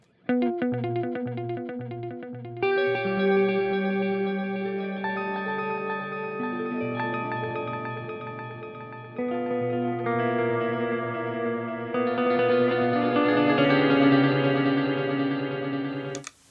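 Clean electric guitar notes ring out through a Meris Hedra pitch-shifting delay set to stereo cross feedback, echoes bouncing between left and right and layering into a lush, spacey wash, played alone.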